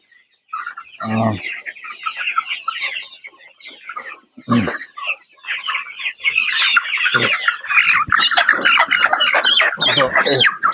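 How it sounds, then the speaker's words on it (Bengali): Coloured-bird broiler chickens squawk and cluck loudly at close range as they are grabbed by hand in a poultry shed, the flock's agitated calls building into a dense, continuous clamour with a few sharp outbursts. "আমরা 2-1টা মুরগি একটু ধরি।"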